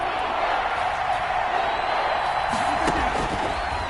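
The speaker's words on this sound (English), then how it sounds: "the crowd getting into it as we come up on a big third down" A dense, steady roar from a stadium crowd in an American football video game builds ahead of a big third down, loud and continuous with a faint rise of cheering partway through.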